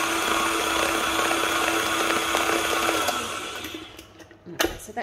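Stand mixer with a whisk attachment whirring loudly and steadily nearby in a home kitchen while beating a shortbread dough mix, then winding down and stopping near the end, followed by a few clatters.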